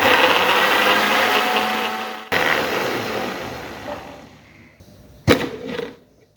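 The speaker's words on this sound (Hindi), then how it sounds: "अब इसको ब्लेंड करेंगे हम" A blender whirs through strawberries, cold milk and sugar, loud at first and then settling to a lower churn. A sharp knock follows near the end before the sound fades out.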